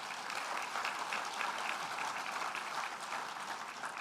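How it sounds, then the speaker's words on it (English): An evening audience at a grain industry awards ceremony applauds farmers, producing a sustained, even roar of many hands clapping, heard from a moderate distance and without noticeable breaks or speech. "I think all of our farmers deserve a big round of applause this evening."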